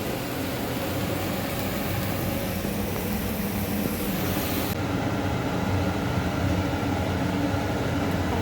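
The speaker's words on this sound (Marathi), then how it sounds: "चिमणीचा आवाज आहे." A kitchen chimney exhaust hood runs steadily over the stove while chana masala is cooked, giving a loud, even fan whoosh with no talking.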